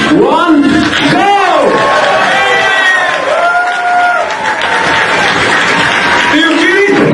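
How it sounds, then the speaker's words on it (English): A crowd at a Coinspace event breaks into loud applause and cheering after a countdown. Whoops and shouted voices sit on top of a dense, sustained wash of clapping that stays at full level from start to finish. "we will make the excellent, not good, but excellent and outstanding applause"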